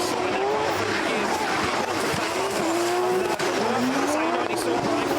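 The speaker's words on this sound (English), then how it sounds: "sliding that car through the gears" A drift car slides through a chicane at Drift Masters 2024, its engine wailing and revving through the gears with steady tire squeal, while a commentator talks over the action throughout.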